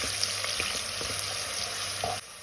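A medium onion cooks in oil in a pan for chicken curry, giving off a steady soft sizzle with a few light stirring knocks, close and fairly quiet.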